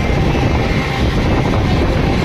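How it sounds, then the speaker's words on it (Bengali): A steady, loud rumble of a train moving at about 110 km/h past hills, with continuous rattling and wind-like roar and no breaks. "আমাদের ট্রেন এখন 110 কিলোমিটার গতিবেগে ছুটে চলেছে পাহাড়ের পাশ দিয়ে।"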